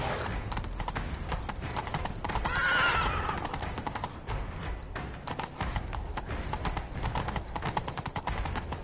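Rapid clip-clop of a galloping horse in The Witcher 3: Wild Hunt, with a neigh partway through and a busy game soundtrack underneath.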